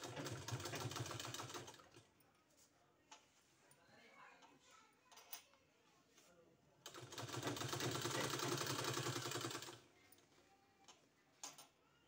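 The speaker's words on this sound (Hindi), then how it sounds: "इसी तरह से पूरे में इधर भी पूरा हमको सिलाई लगा देना।" Sewing machine stitching a finishing collar runs in two distinct bursts of steady mechanical whirring, separated by quieter handling noises.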